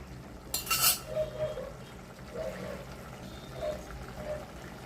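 Pumpkin tamarind curry stirred in a pot, with a sharp metallic clank at the start followed by softer scraping stirs, under a quiet voice.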